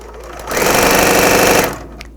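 A BERNINA L 460 sewing machine with a DC motor stitching, a loud close rapid mechanical whir that starts abruptly, runs steadily for about a second, then stops.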